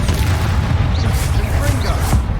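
Bombarda spell explosion in the video game Hogwarts Legacy, a loud booming blast layered over dense combat noise, with a spoken voice over it.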